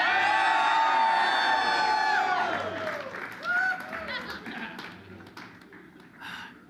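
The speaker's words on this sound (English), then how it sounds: "Ladies and gentlemen, rousing round of applause." A studio audience at a comedy drinking show bursts into loud applause with whoops and whistling cheers, then the clapping gradually fades away.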